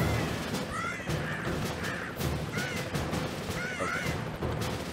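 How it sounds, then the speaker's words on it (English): Crow-like birds caw repeatedly through steady bursts of gunfire and impacts in the Broforce action game, loud and busy from start to finish. "you can murder the birds"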